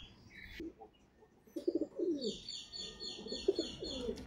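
Pigeons coo in low, throaty bursts close by, with higher chirps and fluttery sounds between them.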